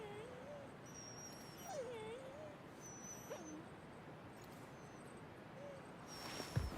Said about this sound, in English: Dogs don't sound too happy.